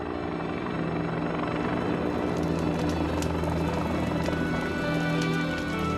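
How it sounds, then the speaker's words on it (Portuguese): A helicopter flies over a wildfire, dropping flaming napalm gel; its steady, loud rotor and engine drone runs unbroken throughout, with no voices. "Um helicóptero soltando napalm chamejante em gel é a maneira escolhida."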